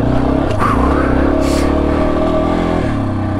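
A Yamaha XT250 dual-sport motorcycle rides off road, its single-cylinder engine droning loud and close with steady throttle and slight rises in pitch, heard from on the bike amid wind rush.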